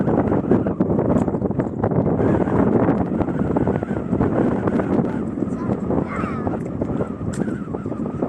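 Strong seaside wind buffeting the microphone in loud, uneven gusts and rumbles that persist throughout, easing slightly near the end.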